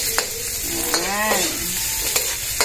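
Garlic and lots of onion sizzle in a frying pan, with a steady close hiss broken by a few sharp scrapes of a utensil stirring them.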